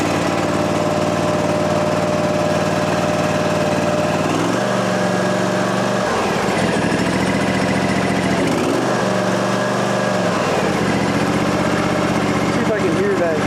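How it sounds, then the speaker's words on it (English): Ariens Ikon-X zero-turn mower engine running loud and close, a dense buzzing idle that dips and rises in pitch a couple of times as it is adjusted, with a voice talking over it. "I will pull the choke, hit the key, and as soon as it fires,"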